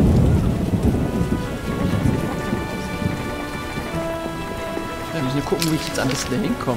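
Steady rain falls in the Witcher game's merchant quarter, a dense hiss with low rumbles that may be thunder, beneath sustained game music while someone talks over it.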